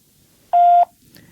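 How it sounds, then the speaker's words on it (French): A single clean electronic voicemail beep, short and steady, in near silence, followed by faint low rustle. "Veuillez laisser votre message après le bip."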